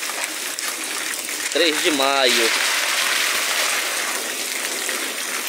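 Heavy rain pours down in Itaitinga, Ceará, with water running through the flooded streets, a constant broadband wash that stays steady throughout while a person speaks briefly over it midway.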